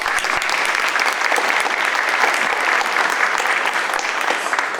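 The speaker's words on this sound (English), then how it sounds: "Give them a hand" An audience gives dense, energetic applause for youth career program graduates, with many hands clapping evenly and loudly throughout.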